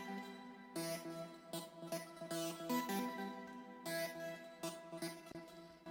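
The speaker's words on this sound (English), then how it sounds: "Next layer, we have this synth, which sounds like this." A melodic synth layer from an FL Studio trap-style beat plays sustained tonal chords with stacked harmonics, re-struck in phrases about every second and a half, loud and steady with no voices.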